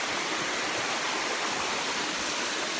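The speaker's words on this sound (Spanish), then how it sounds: "Pues llegamos a la hermosa cascada que yo quiero mostrar, miren." A waterfall in Mayflower Bocawina National Park, Belize, pours in a steady, loud broadband rush of falling water with no break or voices, close by and constant throughout.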